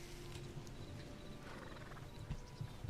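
Skeleton horse ridden in the video game Hytale, its hooves clip-clopping in a steady run with a few louder thuds near the end, over constant low background sound.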